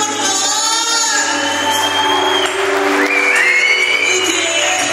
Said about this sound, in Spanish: Que se escuche el aplauso, por favor.